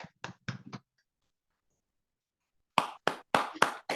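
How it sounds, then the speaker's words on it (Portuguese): Audience members applaud after a talk with a few sharp, scattered hand claps: a short burst of four, a pause of near silence, then another handful of crisp claps, close and isolated rather than a full ovation. "Quem gostou, aplaude"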